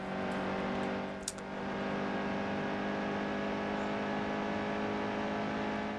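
A racing truck engine drones at steady high revs through a NASCAR Heat 2 race, loud and continuous, with one brief click partway through and no talking.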